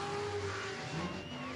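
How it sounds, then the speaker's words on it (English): A ute roars through a burnout on a competition burnout pad, the engine held at high revs in a sustained wailing drone with tyre noise beneath it, loud and continuous. "Plenty of smoke, plenty of revs."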